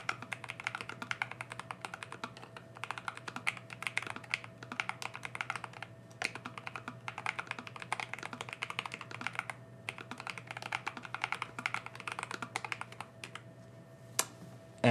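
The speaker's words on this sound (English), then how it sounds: "And there is your typing test." Rapid, continuous typing on a Keychron K3 Pro mechanical keyboard, crisp clacky keystrokes in bursts with brief pauses, close and fairly quiet, with no talking.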